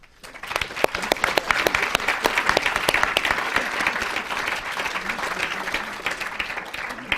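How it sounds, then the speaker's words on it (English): Sustained audience applause fills the room after a panel discussion at the launch of a global panel on agriculture and nutrition, a dense steady clatter of many hands lasting several seconds with no talk over it. "and a round of applause."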